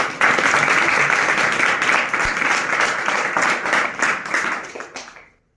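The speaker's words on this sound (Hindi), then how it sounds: "पास्टर साहब के लिए जोरदार तालियां।" A crowd claps steadily for several seconds, loud and dense, before the applause tapers off and fades out.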